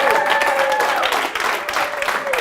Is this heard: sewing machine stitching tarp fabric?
no